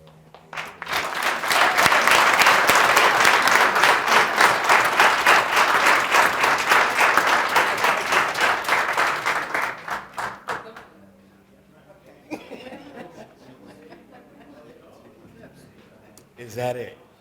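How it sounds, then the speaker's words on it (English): An audience at a Black History Month celebration held by a county prosecutor's office breaks into loud, sustained applause for about ten seconds, then it fades, leaving scattered room noise and a brief late burst of sound. "If we can all give her a round of applause for"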